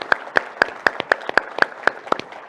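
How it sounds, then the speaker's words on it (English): Conference audience at a keynote clapping in a steady, evenly spaced rhythm of sharp, distinct claps, close and fairly loud, with no talk over it. "a final round of applause to everyone who participated today"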